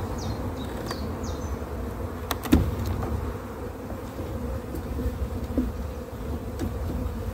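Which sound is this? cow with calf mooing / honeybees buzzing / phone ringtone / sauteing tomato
honeybees buzzing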